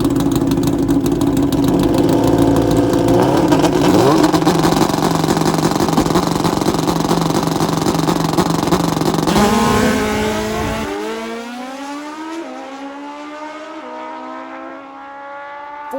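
Nitrous drag-racing motorcycles at a dragway roar loudly at full throttle, then the sound fades as they pull away down the strip, shifting up through the gears into the distance.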